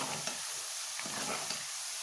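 Sesame seeds and garlic paste fry in oil for a radish chutney, a soft, steady hiss with a few faint stirring taps, quiet and close, with no talking.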